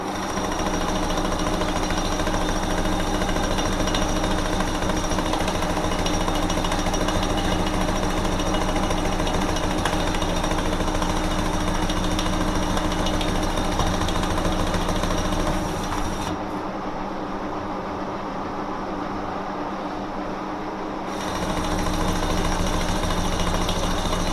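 Lathe or mill cutting into a Hayabusa motorcycle piston bore, a steady loud machining drone with grinding chatter that drops out briefly near the end before resuming.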